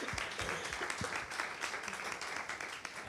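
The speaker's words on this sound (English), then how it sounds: "Please, a big round of applause to Maximiliano." An audience at a talk on an ecosocial energy transition applauds the film's director with a fairly quiet, scattered round of clapping that holds steady for a few seconds.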